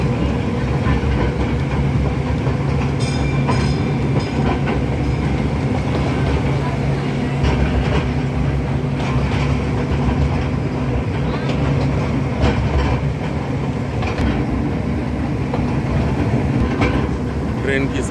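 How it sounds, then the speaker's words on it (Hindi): A toy train ride clatters along its rails with a loud, continuous rumble and rattle close by, carrying on steadily throughout while people's voices murmur underneath. "ट्रेन की सवारी सभी लोग करते हैं, लेकिन टॉय ट्रेन की सवारी बहुत ही अच्छा लग रहा है।"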